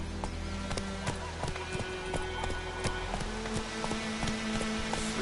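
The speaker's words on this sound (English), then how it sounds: "Come on, Roach" A horse gallops in the video game The Witcher 3, with rapid, rhythmic hoofbeats clip-clopping close and clear over a steady ambient backdrop.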